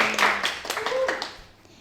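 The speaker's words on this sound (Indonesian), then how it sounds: "Beri tepuk tangan" Clapping for guest teachers from a fashion design department on a school podcast, a brief scattering of handclaps from a small group, fairly close, fading out within two seconds.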